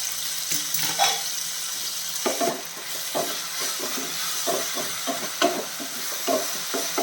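Tomato chutney sizzling in a pan as it is stirred, with a steady close frying hiss and repeated scraping, clattering stirring strokes throughout, no talking.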